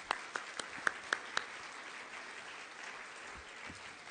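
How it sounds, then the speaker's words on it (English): Faint, distant applause from a Parkinson's Foundation caregiver summit audience, a few sharp claps standing out at first before settling into a soft, steady patter. "So a big round of applause for Acadia."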